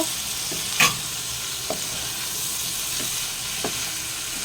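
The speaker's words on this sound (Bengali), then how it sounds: "চিংড়ি মাছের সাথে সবগুলো ভালো করে মিক্স করব।" Prawns and potatoes being stirred in a frying pan with a steady sizzle of frying underneath and a few distinct scrapes of the spoon, the loudest one early, all close and fairly quiet.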